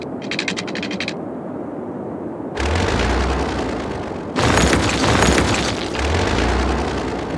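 Roads are demolished in the city-building game Cities: Skylines, producing heavy, loud rumbling blasts that sound one after another with deep booming surges.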